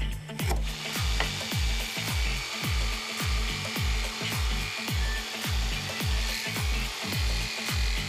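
Wooden slats for a harvest basket are sanded with a sanding block in steady back-and-forth strokes, about two per second, each a rough, close scraping rub, with no talking.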